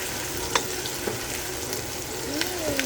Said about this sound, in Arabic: بنستنى الزيت يتبخر بنكهة البصل وبنحط الرز